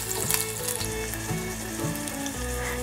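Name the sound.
ginger slices and Sichuan peppercorns stir-frying in a pan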